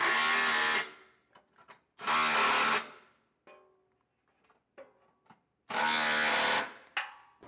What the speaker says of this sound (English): I'm going to get a 11/16 socket here and tighten them down